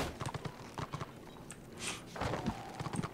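Hoofbeats of a ridden horse in the Return of Reckoning video game, a steady clip-clop rhythm of soft repeated thuds close up, with no talking over them.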